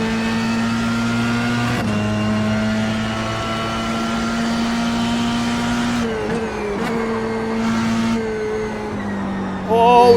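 An F3 race car engine laps Imola in iRacing with a loud, steady buzzing drone that drops pitch sharply a couple of times as the car shifts and brakes.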